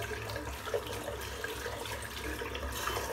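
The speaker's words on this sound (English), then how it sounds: "Just going to rinse the brush out now." A shaving brush rinsed under a running bathroom tap, a steady close hiss and splash of flowing water throughout, no voices.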